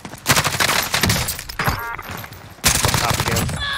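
Rapid automatic gunfire from an AK74u in the Call of Duty Warzone video game comes in dense, loud bursts broken by brief gaps, with a voice speaking amid the shooting.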